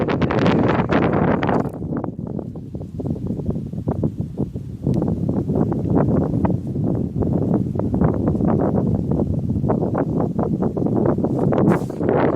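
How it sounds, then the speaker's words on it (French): Heavy wind buffets the microphone outdoors during metal detecting in loud, irregular gusts, producing a constant low rumbling roar with sharp thumps throughout. "Désolé pour le vent"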